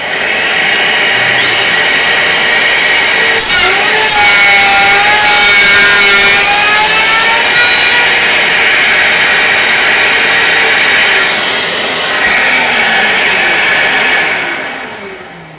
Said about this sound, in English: I'm going to turn on my vacuum, and then with the dust collection on